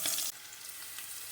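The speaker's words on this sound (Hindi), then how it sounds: "तकरीबन 1 मिनट के लिए इसको फ्राई कर लें।" Quince pickle mixture frying in a pan: a short, faint, steady sizzle after a brief brighter burst at the start.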